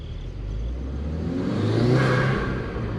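A 2020 Subaru WRX with a Mishimoto intake and stock non-vented blow-off valve, windows down, accelerating with steady intake induction whoosh and engine drone that builds and swells midway, then a brief hiss as it eases off.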